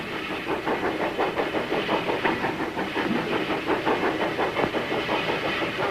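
A steam train hisses at a station, a loud continuous steam rush with a rhythmic chuffing pulse and mechanical clatter underneath, no talking.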